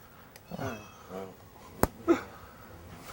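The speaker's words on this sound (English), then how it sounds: "I can hear my cat meowing somewhere." A cat meows a couple of times from somewhere nearby, short muffled calls with quiet pauses between them.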